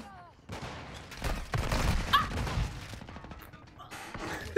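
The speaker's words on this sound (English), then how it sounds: "It's bullets over there." Gunfire in Call of Duty Modern Warfare 2 crackles in scattered bursts and thuds of varying loudness, building toward the middle, with a player's voice breaking in over the shots.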